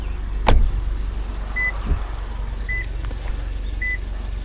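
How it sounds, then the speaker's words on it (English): A Subaru WRX door thumps shut once, then a warning beep sounds three times at steady intervals, signalling that the key is not detected, with faint ambient hum underneath. "it will beep like that to let you know that it has detected that the key is not in the car and the door has been closed."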